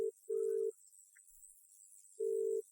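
A telephone call rings out with repeated low ringback tones, two tones close together, a pause, then another. The sound is quiet and clean with no talk.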